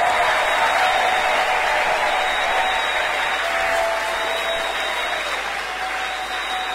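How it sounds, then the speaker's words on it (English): A church congregation at a Wednesday fellowship service claps in a loud, dense, unbroken wash of applause that holds steady for several seconds, with a faint high tone ringing beneath. "Can we give this our God a good clap up for somebody?"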